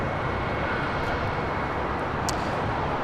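Jet engines of an airliner at LAX, a Boeing Dreamliner taxiing toward runway 25 right, form a steady, loud broadband roar that holds constant throughout with no voices.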